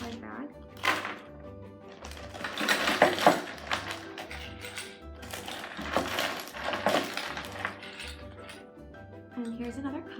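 Ice cubes tumbling into a plastic bag for homemade ice cream, a clattering jumble of clinks and knocks in bursts, close by, with a low rhythmic hum underneath.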